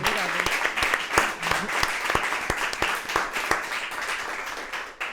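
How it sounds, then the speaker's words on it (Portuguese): An audience at a breakfast talk event gives a warm round of applause, dense clapping with sharp individual claps standing out, holding strong before tapering near the end. "ajudem-me a agradecer à Carolina Pereira com uma enorme salva de palmas"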